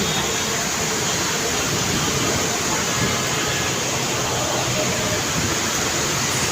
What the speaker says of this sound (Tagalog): Ang lakas ng ulan mga kabakyard.